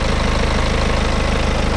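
Steady idle of a BMW 5 Series GT F07 engine heard with the engine bay open, a close, even, rhythmic low hum with a constant pulse and no talking.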